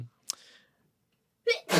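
A single sharp sneeze bursts out close by, followed by a brief pause and then a quick intake of breath and another forceful exhale.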